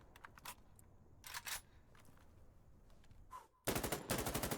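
Bursts of automatic gunfire in the tactical shooter Insurgency: Sandstorm, several short volleys followed by a louder sustained burst near the end, with no talking over it.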